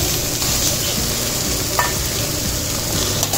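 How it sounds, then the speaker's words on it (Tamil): Shark fish and grated coconut fry in oil with a loud, continuous sizzle and crackle, while faint stirring clatters sound underneath. "நான் வந்து எண்ணெயில் போட்டு இப்போ இந்த தேங்காயும் அதில் சேர்த்துக்கிறேன்."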